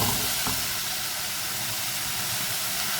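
Potato pieces dropped into a pan of softening, lightly caramelised courgette and onions, producing a steady, loud broadband sizzle and hiss that runs continuously with no talking.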